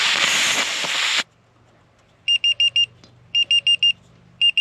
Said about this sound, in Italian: Ovviamente ora suona l'allarme perché va tarata la pressione d'esercizio